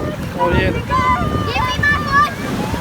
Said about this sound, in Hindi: पानी का देखें, लहरें जो है कैसी स्पीड से आ रही हैं।